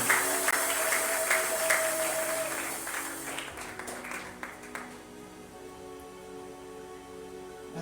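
A church congregation applauding at a special closing ceremony. Dense, loud clapping fills the first few seconds and then thins to scattered claps that fade into the room.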